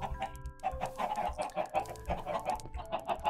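Chickens clucking in the video game Minecraft, a busy cluster of short overlapping clucks and chirps from several birds, fairly close and steady throughout with no voices.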